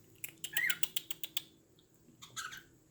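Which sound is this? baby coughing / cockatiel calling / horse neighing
cockatiel calling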